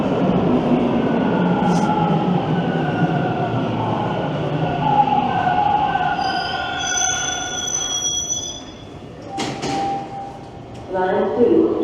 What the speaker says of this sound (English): I can miss this train if it's mine.